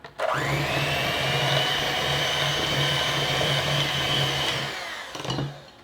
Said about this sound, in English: we are going to mix these together, creaming the sugar with the butter